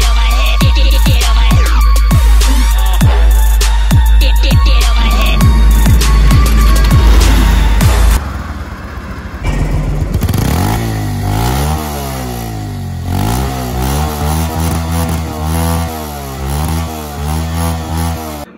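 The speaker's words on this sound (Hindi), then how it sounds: "पहले मैं आपको इस गाड़ी का एग्जॉस्ट नोट सुना दूँ कि कैसी है इस गाड़ी की" A Bajaj Pulsar 150 motorcycle exhaust sounds close and loud: a string of sharp throttle blips for several seconds, then a brief pause before repeated rising and falling revs into a steady running note.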